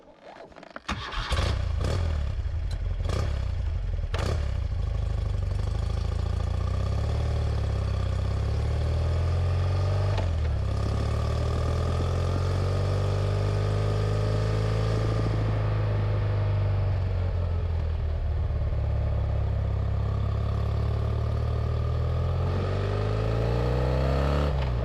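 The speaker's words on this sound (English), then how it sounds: "this really is one of the great motorbike engine noises" BMW R100 boxer-twin motorcycle engine starts, then idles with a deep, steady throb. It rises in several sharp revs early on and swells again with slower, drawn-out revs later, loud and close throughout with no talk.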